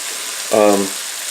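Pork or beef browning in a pan for jjajangmyeon, Korean black bean sauce noodles, gives a steady sizzle with a brief louder burst of frying partway through and no talking.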